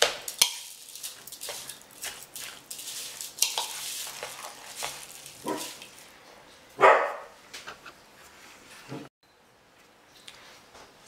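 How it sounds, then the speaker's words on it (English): Domestic dogs barking indoors in a kitchen during cooking, a few loud, close barks in irregular bursts, with stirring and frying sounds around them. "I told my dogs that we were filming today, so I don't know why they're barking."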